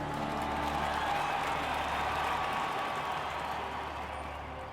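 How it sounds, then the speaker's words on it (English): A large crowd applauds steadily at an 1892 centennial celebration as President Harrison takes his seat after his speech, flags waving; dense, continuous clapping that fades slightly toward the end. "Harrison takes his seat as the crowd applauds and waves miniature flags"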